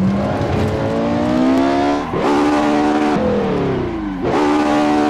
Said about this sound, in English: That was the Porsche 918 and Assetto Corsa.